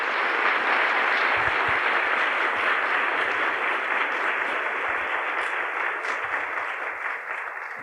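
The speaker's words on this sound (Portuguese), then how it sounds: "A plateia aplaude intensamente." A large audience at a talk by Frei Betto applauds intensely, a dense, steady wall of clapping that holds at full strength for the whole span and only begins to ease slightly near the end, with no voices over it.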